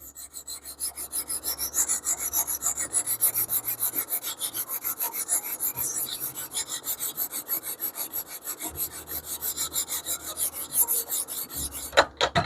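A knife is honed on a KME sharpening system, rhythmic raspy strokes of stone on steel repeating evenly and close for several seconds, with no voices.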